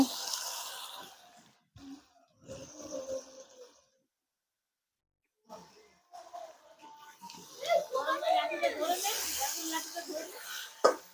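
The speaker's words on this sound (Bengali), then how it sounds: "সামান্য জল দিই নাহলে মশলাটা পুড়ে যাবে" A splash of water hits turmeric, cumin, chili and coriander frying in a pan for a village-style Bengali fish curry, bursting into a loud, spreading hiss and sizzle. A voice talks over the cooking sounds.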